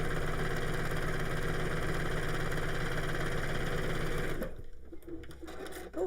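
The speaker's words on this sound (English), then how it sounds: "let's top stitch across the top." A sewing machine running steadily while top stitching fabric, a loud continuous motor whir with rapid needle rhythm that stops abruptly near the end, leaving quiet handling sounds.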